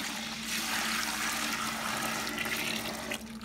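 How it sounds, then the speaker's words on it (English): Muscadine juice poured steadily from a container into a cooking pot for jelly, a continuous close splashing trickle that holds an even level throughout. "I'm gonna go ahead and pour this in."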